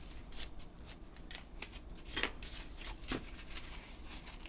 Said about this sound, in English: use the small scissors to give it some detail